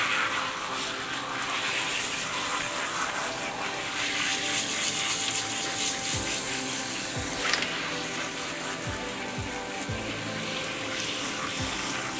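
Steady hissing spray of water runs continuously onto a Mini Australian Bernedoodle's coat, fairly close, with a few low thumps and bumps underneath.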